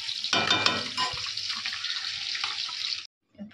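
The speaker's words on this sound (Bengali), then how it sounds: "মশলাটা কষানো হচ্ছে, চিকেন মশলা।" Chicken masala with potatoes frying in a home kitchen pan, a steady bright sizzle lasting about three seconds with some scraping at the start, then cutting out briefly before a faint clink.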